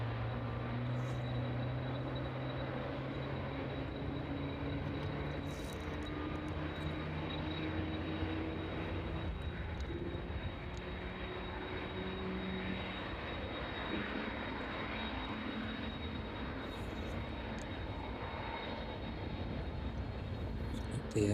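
A Boeing 747 airliner on approach to East Midlands Airport produces a steady, distant roaring jet drone with a faint high whine, sustained evenly throughout.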